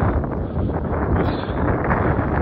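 Wind gusts buffet the microphone outdoors near a horse farm, a dense low rumble that stays steady throughout with no other clear sounds.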